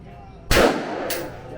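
Two sharp, loud gunshots at an indoor shooting range in Gdansk, Poland, about half a second apart, each ringing out and decaying against quiet room noise.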